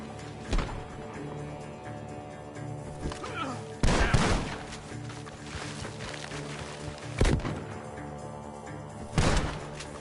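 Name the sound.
gunfire in a video game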